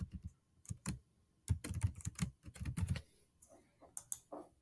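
A computer keyboard clicks in quick bursts of keystrokes as form details are typed in, with short pauses between the bursts, close and on its own.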